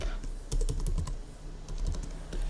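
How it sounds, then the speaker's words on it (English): Typing on a computer keyboard at a desk, a quick run of light, close key clicks in an uneven rhythm with no talking. "So I'm just going to type Topshop."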